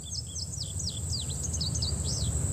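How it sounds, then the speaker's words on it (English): An indigo bunting sings a rapid run of high, sweeping chirped notes over a low, steady background rumble. "that is the sound of South America's indigo bunting"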